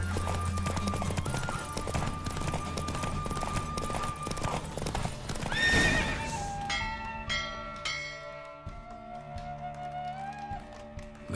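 A racing horse gallops in The Witcher 3, rapid rhythmic hoofbeats close and loud, with bell-like chimes and game music layered in as the run ends.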